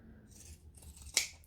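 Sewing scissors chop through vinyl and fabric with a soft crunching cut that ends in one crisp close snip, all alone with no talk.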